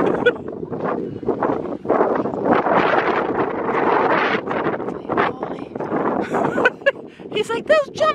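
Strong wind gusting at an outdoor horse riding arena, buffeting the microphone in loud roaring bursts, with voices heard through it toward the end.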